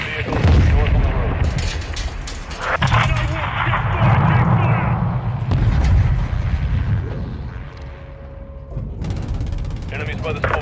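Gunfire and heavy booms in a Call of Duty Modern Warfare II campaign battle, loud and continuous with blasts, dense combat noise throughout, voices shouting over it.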